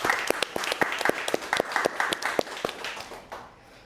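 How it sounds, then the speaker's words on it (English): Audience applause at a press conference for a quantum computer company's funding announcement, a burst of many sharp claps close and lively, then thinning out and fading to quiet near the end. "please give a big round of applause again to all the investors and all the partners"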